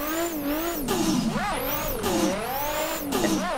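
A Nissan S15 drift car in a racing video game revs hard and steadily, engine pitch rising and falling in repeated sweeps with tire squeal, loud and continuous with no talking.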